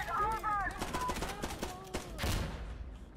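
Rapid gunfire from the video game Insurgency Sandstorm cracks in quick bursts of sharp shots, mixed under overlapping voices of players talking.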